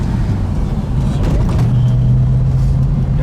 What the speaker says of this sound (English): Getting to drive a 70 Road Runner 440 with a pistol grip shifter.